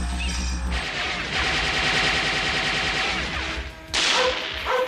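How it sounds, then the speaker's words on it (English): RoboCop fires a gun in the animated series, a loud, rapid, continuous burst of shots over dense music and effects, briefly cut off, then resuming with a sharp crash. "The Vandals are wrecking a mall when RoboCop shows up and uses a gun for its intended purpose."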